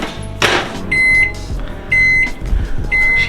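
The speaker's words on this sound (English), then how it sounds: "right in the microwave." A microwave oven runs with a low hum while heating a black pepper and sage pork chop, its electronic beeps sounding three times in an even rhythm, close and clear.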